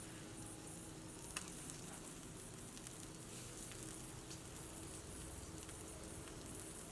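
Chicken grills in oil as it is turned over, a steady, quiet, even sizzle and crackle throughout with a faint tap or two from the turning.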